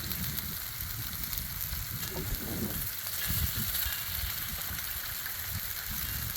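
Eggs frying in oil on a Blackstone griddle give a steady close sizzle with a few louder crackling bursts and faint scraping, and no one speaks.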